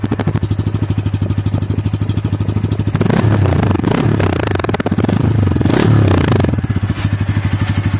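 A Bajaj Pulsar N160 motorcycle engine runs close by with a steady rapid idle thrum, swells into a louder, rougher revving stretch in the middle, then settles back to its even idle.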